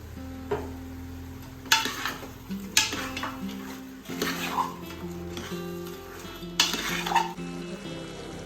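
Cinnamon, clove, ginger and garlic paste frying for mutton pulao, bursts of sizzling and stirring with metal spoon scrapes and clinks against the pot, coming in uneven waves, with a voice talking at times.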